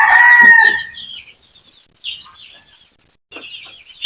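Backyard chickens close by at feeding time, one loud clucking squawk at the start, then scattered short high chirps and peeps in bursts separated by quiet gaps.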